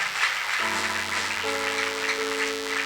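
A church congregation applauds in a continuous patter of clapping while sustained organ-like keyboard chords enter and shift beneath it, with no talking.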